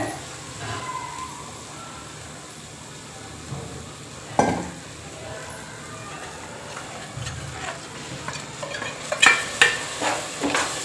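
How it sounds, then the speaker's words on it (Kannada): Steady soft sizzling of masala frying in a pan, with occasional scrapes and clinks of a spoon stirring, busier toward the end. "ಸ್ವಲ್ಪ ಫ್ರೈ ಮಾಡ್ಕೊತೀವಿ ಇಲ್ಲೊಂದು ಸ್ವಲ್ಪ ನೀರು ಹಾಕೋತೀನಿ ಈಗ"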